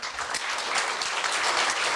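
Audience applause at a university staff retirement ceremony, a dense, steady wash of many hands clapping for the full two seconds, close and evenly loud.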